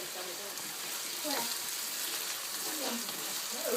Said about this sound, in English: I'm still frying my potato.